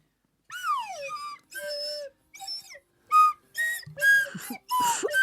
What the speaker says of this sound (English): I'll take the Swanee whistle, and we're going to recreate this song.